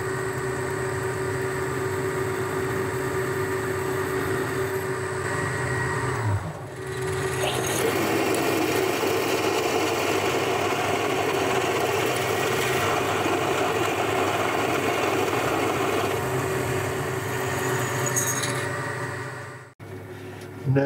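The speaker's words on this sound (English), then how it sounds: "Now centre drill and drill a hole ready for an 11/32 reamer." A drill boring a pilot hole in metal on a lathe, sized to take an 11/32 reamer, keeps up a steady mechanical whir with a tonal hum, briefly dips near the start and cuts off sharply near the end.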